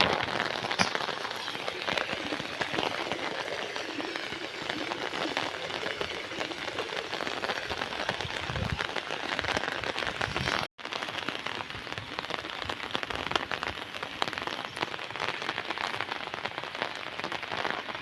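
Heavy monsoon rain pours steadily in the Konkan countryside, a dense, continuous hiss of drops pattering on surfaces, loud and unbroken apart from one brief dropout.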